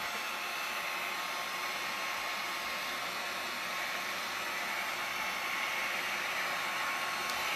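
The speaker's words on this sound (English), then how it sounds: "I'm going to put a heat gun on this just to dry it a little bit so I can wipe it back a little bit." A heat gun blows steadily to dry paint on an outdoor planter, a constant close, loud hissing airflow roar that holds unchanged throughout with no voices.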